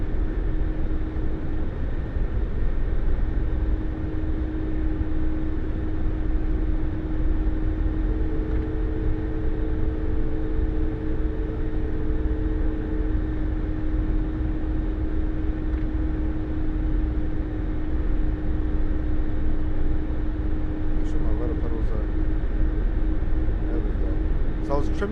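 Mi-24 Hind helicopter flying in DCS, a steady loud rotor and turbine drone with a constant engine hum running throughout, unbroken and close.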